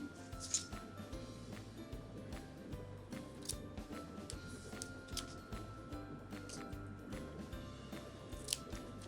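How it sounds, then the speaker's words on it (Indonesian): Scissors cut paper for a Sunday school craft, a steady run of close, snipping blade closures in an even rhythm across the whole stretch, with no clear talking. "Terus kita gunting."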